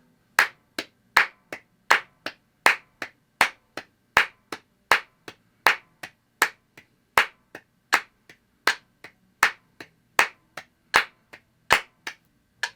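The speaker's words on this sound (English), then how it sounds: "2 claps on every click." Hand claps in pairs, two to each metronome click, forming a steady quick run of sharp, crisp snaps that continues evenly for several seconds, close and alone without talk.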